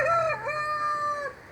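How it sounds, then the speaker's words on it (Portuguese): A rooster crows once in a long, drawn-out call that rises and then holds steady, close and loud, with no talk over it. "vou ter que mandar o Galo calar a boca"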